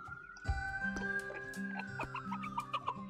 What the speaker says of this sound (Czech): Kuřátko Carlos.